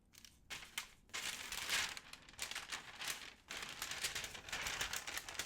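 Paper crinkling and tearing close by at a crafting desk during planner decorating, a run of crisp crackly rips and rustles with brief pauses, no talk.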